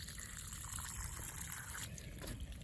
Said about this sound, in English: I can see it trickling.